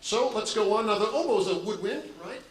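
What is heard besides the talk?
No distinct noise like a dog, phone or traffic.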